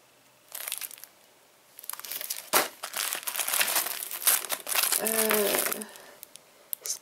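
Sheets from a scrapbooking paper collection are handled and crinkled in bursts of rustling and crumpling, close up and fairly quiet, with a few short gaps between movements.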